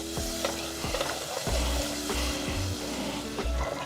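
Butter melting and sizzling in a pan for Southern candied yams with vanilla extract, a steady close frying hiss broken by soft thumps and scrapes of stirring, with no voices.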